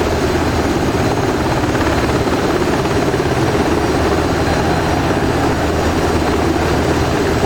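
A UH-60 Black Hawk helicopter in the DCS World simulator on the Syria map thrums loudly and continuously, its rotor and turbine drone steady and close with no break throughout.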